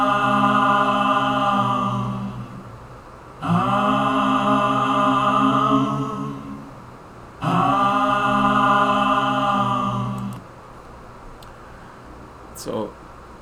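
Several layered recordings of one voice chanting Om, some pitched an octave up, blend into a sustained choir-like drone. It comes in three long swells with short pauses between them, and a brief faint click near the end.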